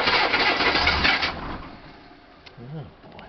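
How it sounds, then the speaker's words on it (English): A car engine cranks over on low cold-cranking-amp NASCAR batteries, a loud churning whir for over a second that fades out, followed by a short voiced sound near the end. "Running down the batteries, my NASCAR batteries."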